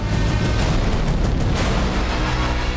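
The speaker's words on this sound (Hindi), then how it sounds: "एक जोरदार धमाका और सब खत्म।" A heavy explosion strikes a halted military convoy, a dense, sustained roar of blast and rumble filling the whole stretch at high loudness with no voices heard.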